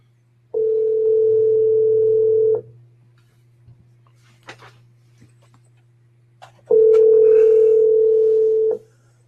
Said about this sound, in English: All right, ringing him now.